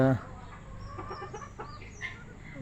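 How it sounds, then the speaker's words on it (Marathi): Free-range village chickens cluck softly in short bursts nearby, over a low steady background noise, after a brief louder sound at the start. "तुम्ही बघू शकता कोंबडी आपली फिरतात"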